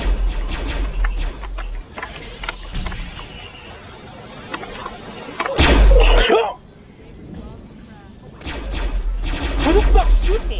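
Gunfire in the Roblox video game breaks out in sharp blasts and short bursts with quieter gaps between them, heard loudly against the game's background noise.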